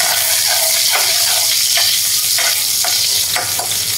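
Garlic sizzles in a little hot oil in a pan, a loud continuous frying hiss broken by several regular scraping strokes of a spatula, with no voices.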